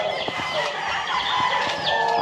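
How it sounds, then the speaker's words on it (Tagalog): Day-old chicks on a hot poultry farm in Batangas, a dense chorus of continuous high cheeping, close and fairly loud, no talk. "Binibilang nila yung sisiw."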